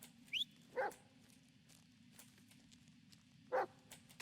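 Dog Bullet barks in the Blair Witch video game, two short separate barks about three seconds apart over a low steady hum, with no talk.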